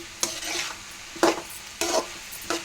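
Ridge gourd pieces stirred in a pan, four distinct scraping strokes of a spoon against the pan spaced about half a second to a second apart over a soft background sizzle, with no speech.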